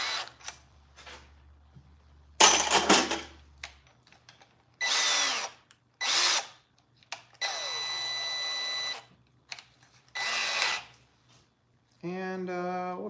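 A power drill runs in several short bursts of whirring separated by silences, with a few faint clicks and knocks between them, close and fairly loud, during tractor repair work.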